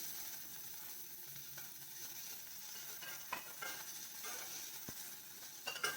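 A handful of coriander leaves sautés with ginger in a pan for a chow chow (chayote) dish, making a soft, even sizzling hiss broken by a few sharp clicks of a stirring spoon.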